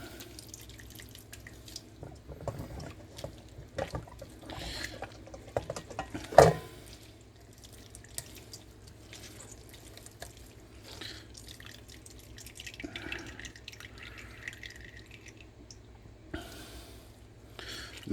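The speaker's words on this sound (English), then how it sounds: "We're going to try to knead this and squeeze this" Homemade mozzarella kneaded and squeezed by hand, with faint wet squelches, drips and trickles of whey and a sharp splash near the middle, quiet and close, no talk.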